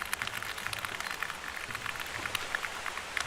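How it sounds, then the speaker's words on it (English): Heavy rain pours onto a gazebo roof at a rugby ground, a dense, steady hiss of drops with scattered sharper taps, moderately quiet and without talk. "There we go, there's some real rain coming down now."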